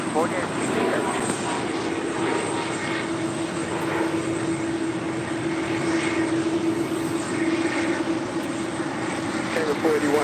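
An airplane at LAX produces a loud, steady engine roar with a sustained drone throughout, while radio voices talk over it.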